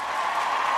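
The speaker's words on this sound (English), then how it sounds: "now where's the big applause?" A short burst of crowd applause used as a sound effect, steady clapping at moderate volume.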